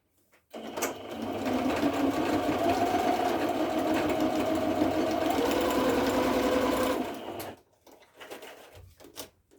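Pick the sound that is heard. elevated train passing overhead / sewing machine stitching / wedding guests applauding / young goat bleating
sewing machine stitching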